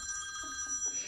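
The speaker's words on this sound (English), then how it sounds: "Oh, here's my phone again." A mobile phone rings nearby during a casual podcast conversation, a steady electronic tone held through the whole moment, with no one talking over it.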